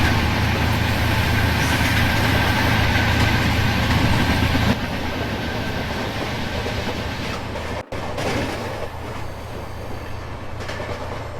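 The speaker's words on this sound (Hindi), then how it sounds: "कोई ट्रेन और आ रही है शायद।" Passing train in Indian Train Simulator near Ghaziabad, a steady loud rumble of rolling wagons with faint clickety-clack that drops slightly in level midway and continues alone.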